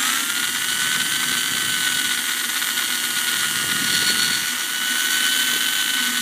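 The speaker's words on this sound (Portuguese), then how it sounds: "vou usar aqui uma broca de 2 mm para poder retirar ela" A drill with a 2 mm bit whines in a continuous high-pitched buzz as it removes the resin shielding around a motorcycle sensor, loud and close without pause.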